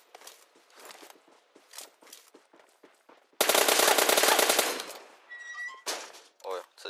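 Gunfire in a PUBG shootout: scattered light shots and footsteps, then a loud sustained burst of rapid automatic fire, followed by a few sharper shots and clicks, with no talking.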